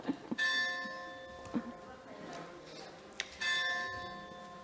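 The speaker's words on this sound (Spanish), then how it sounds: "cuando suenan las campanas" Church bells ring out in bursts over a background of people talking, with a few sharp strikes and sustained ringing tones that swell and fade at moderate distance.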